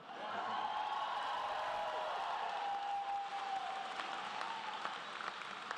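A convocation audience at the University of Guelph graduation ceremony applauds in a steady, fairly faint wash of clapping that carries on for several seconds, with a thin sustained tone running underneath.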